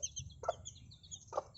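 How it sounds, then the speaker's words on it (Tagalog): Two short clucks from a chicken, close and fairly clear, spaced about a second apart, with faint chirping birds in the background. "Ayan ang manok."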